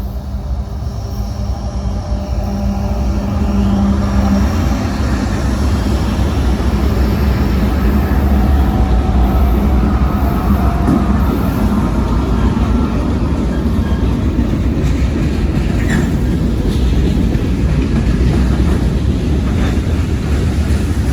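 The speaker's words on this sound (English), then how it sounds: "It's going to be a long train." A long freight train of over 100 cars rumbles past steadily, a dense low roar of wheels and cars that swells early and then holds loud and continuous throughout.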